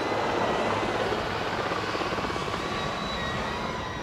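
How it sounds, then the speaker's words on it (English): A helicopter roars steadily overhead during a presidential rally outside a high school, a loud continuous rotor and engine drone lasting the whole stretch with no talk over it. "That's helicopter number three."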